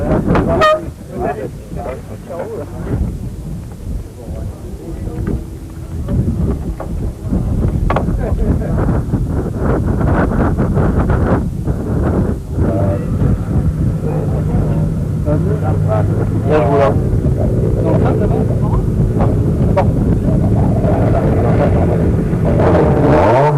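Rally cars, Citroëns and Mitsubishi Pajeros, start a desert stage of the 1992 Rallye de Tunisie with loud engine roar and wind buffeting, rising and becoming sustained after a few seconds, with a voice talking over it.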